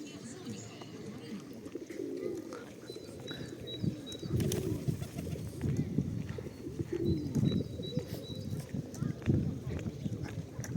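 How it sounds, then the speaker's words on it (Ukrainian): Pigeons coo softly in repeated low, throaty phrases against quiet outdoor ambience in central Truskavets, with faint chirps in the background. "Голуби на відпочинку."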